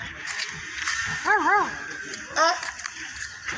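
A voice imitates a dog barking, two quick yelping barks followed by another a second later, with faint talk and room noise around them.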